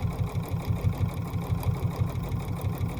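A sewing machine stitches another layer of a quilt-as-you-go quilt, giving off a steady, rapid mechanical pulsing at close range with no voices.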